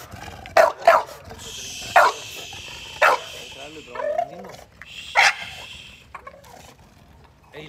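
A bully breed dog barks repeatedly in a home, with several loud, sharp barks spread out between excited voices talking nearby.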